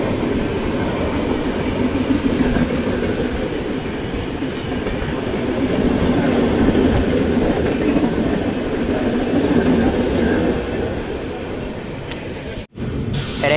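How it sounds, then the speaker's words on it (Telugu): Ernakulam Patna Express rolling through a curve, a steady close rumble of wheels and carriages with faint clickety-clack, continuous throughout with a brief dip near the end. "We are passing through a beautiful curve. Ernakulam Patna express."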